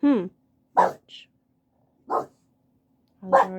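A dog barks in three short, separate bursts spaced across a few seconds, fairly close and clear, with a human voice briefly at the start and quiet gaps between barks.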